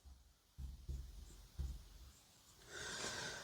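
Chalk or marker writing an equation on a classroom board during an electrical circuit lesson: a few quiet close taps and strokes, then a brighter scratchy stretch, with no talking.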